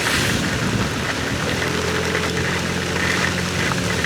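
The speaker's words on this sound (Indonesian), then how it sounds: "hujan dan anginnya gede banget." Heavy rain and strong wind roar around a motorcycle ride through the Rogojampi area of East Java, a dense, steady wash of noise with a low engine hum underneath, loud and unbroken throughout.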